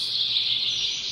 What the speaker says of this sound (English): Oh my goodness, the birds are loud.